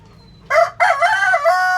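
A rooster crows loudly and close by from a coop of black meat chickens, one long drawn-out call broken by a short gap, with faint clucking and farmyard murmur before it.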